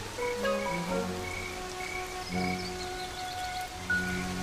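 Steady rain falls in the wild with a soft, even hiss, while frogs croak and insects trill in overlapping tonal calls throughout.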